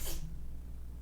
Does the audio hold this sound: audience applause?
no